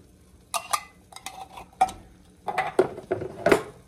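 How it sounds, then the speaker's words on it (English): Tomato sauce from an 8-ounce can being stirred in a pot, with a spoon scraping and clinking against the sides in a handful of short, uneven strokes, fairly close and with no talking. "give it a good stir"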